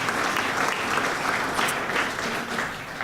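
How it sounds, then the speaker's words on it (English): Steady clapping from an audience at a media awards ceremony as a winner is commended, a continuous even wash of applause at moderate loudness, no speech over it. "Yeah, go on, clap, Vicky."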